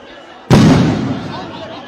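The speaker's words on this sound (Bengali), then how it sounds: "এখানে সাউন্ড গ্রেনেড নিক্ষেপ করা হয়েছে" A police sound grenade thrown at protesters goes off in one sudden loud blast, followed by a rumbling echo that slowly dies away.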